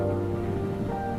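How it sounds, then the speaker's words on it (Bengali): Rain falls steadily as a dense, even hiss, with a faint sustained tone running underneath. "বৃষ্টির আওয়াজ তুমি শুনতে পাচ্ছ।"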